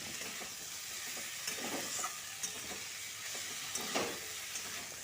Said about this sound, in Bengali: এটা ভালো করে কষাবো যতক্ষণ না মশলাটা ফুলকপি আলুর সাথে মিশে যায়